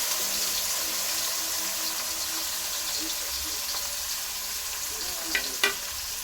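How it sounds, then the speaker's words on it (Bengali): Chopped onion fries in a pan of hot oil with a loud, even sizzle that holds throughout, ending with two sharp clinks of a spatula against the pan. "দিয়ে দেবো কেটে রাখা পেঁয়াজ কুচি।"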